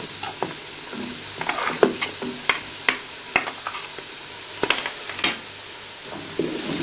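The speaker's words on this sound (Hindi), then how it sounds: "इसी तरीके से आपने 1 बाय 1 चीज़ें डाल के और भूनना है इस तरीके से" Vegetables, including capsicum, stir-fried one by one in a pan for vegetable macaroni: a soft steady sizzle broken by scattered sharp clinks and scrapes of the spatula, close by and without talk.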